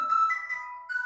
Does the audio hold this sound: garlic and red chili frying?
no